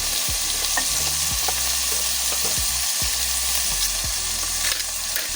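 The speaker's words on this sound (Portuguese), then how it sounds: "Com o alho já começando a dourar, eu coloco a carne. E aí eu vou passar essa carne aqui até dourar." Beef and garlic brown in a frying pan, a loud close sizzle broken by repeated scraping and tapping of a spatula against the pan, several strokes in quick succession, without speech.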